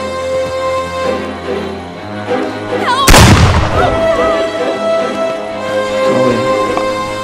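A single loud, sharp gunshot cracks out midway through a tense match of the Friday the 13th video game, over a steady layer of game music and ambience.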